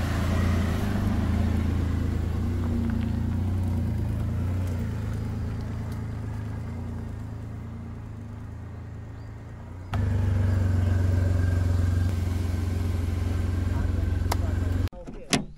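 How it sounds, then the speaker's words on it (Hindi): A car engine hums steadily with a low rumble from inside the vehicle as it pulls into a parking spot near a jungle trekking trail at Mahalaxmi, Dahanu, ending in a sharp clunk. "अपनी कार यहाँ पे हो गई है पार्क"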